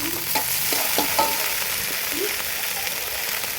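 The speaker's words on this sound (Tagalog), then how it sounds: "Ilagay na natin guys yung ating ginayat na mais" Sliced corn tumbles into a hot pan and gets stirred, a close, constant bright hiss of frying with a few quick scraping and clacking strokes early on.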